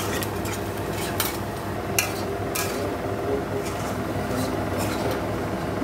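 Semolina stirred in a hot pan with fried onion, green chilli and curry leaves, giving a steady low sizzle under repeated scraping and clinking strokes of a spoon against the pan.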